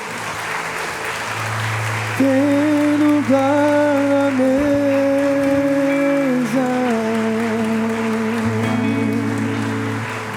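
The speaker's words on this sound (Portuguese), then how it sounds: "Dê uma salva de palmas ao Senhor" A church congregation at a youth worship service claps continuously under a singer's sustained, melodic voice, with steady music underneath.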